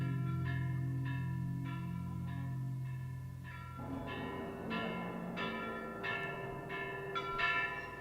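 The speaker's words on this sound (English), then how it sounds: "Suddenly from outside a bell spoke out, then ceased abruptly." A bell outside rings in a run of evenly spaced, resonant strokes over a low sustained tone, the rhythm continuing fairly loud before the ringing ends sharply.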